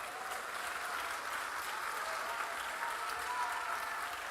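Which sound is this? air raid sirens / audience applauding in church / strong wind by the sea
audience applauding in church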